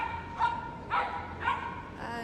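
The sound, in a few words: miniature poodle dog barking at agility event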